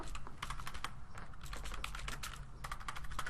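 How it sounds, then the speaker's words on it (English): Quick bursts of typing on a computer keyboard while filling in a fax cover sheet form, brisk uneven clicks close by with no voices. "what we can do is just type that in"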